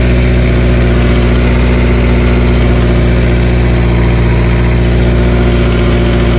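Loud, close Honda S2000 engine idling with a rough, rumbling exhaust note and a hissy, leaky rasp from an exhaust leak running steadily throughout.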